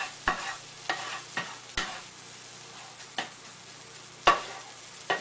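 A spatula scrapes and stirs eggs, melting cheese and warm avocado in a sizzling frying pan, with sharp scraping strokes roughly every second over a soft, steady sizzle and no talking.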